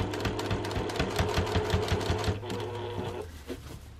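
A sewing machine rattles rapidly stitching a seam on the free arm of a quilted insulated tea cozy, a close, steady run that slows and stops near the end.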